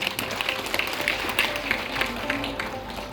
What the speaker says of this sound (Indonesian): Aplaus untuk semua.